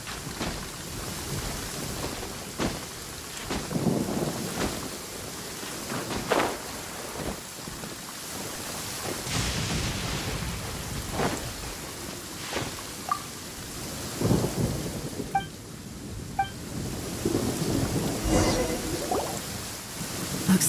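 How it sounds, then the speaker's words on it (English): Steady rain and rolling thunder from a stormy scene in the video game Genshin Impact, a continuous wash of rainfall broken by repeated low rumbles and sharper cracks, with a few faint tonal game sounds. "Demons do not stop for the rain."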